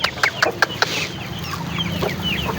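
A few sharp clucks from nearby free-range country chickens on a farm with goats, then softer clucking and chirps continue over a low outdoor background.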